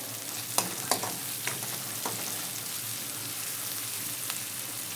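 Chopped onion with salt fries in a pan, making a steady, close hiss of sizzling with scattered sharp crackles, most of them near the start. No talk is heard.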